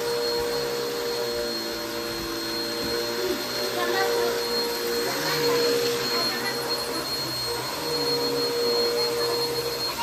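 A vacuum cleaner running steadily in a child's bedroom during cleanup, a loud continuous whine and roar that holds for the whole stretch, with family voices talking faintly underneath.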